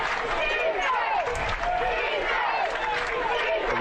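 Stadium crowd at a college football game roars steadily, on its feet urging the defense on third down, a broad continuous cheer with a commentator talking over it.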